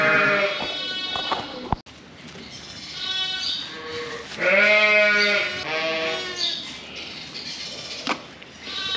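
Several sheep bleat in wavering, drawn-out calls during lambing, close and fairly loud, with short gaps and a sharp knock partway through.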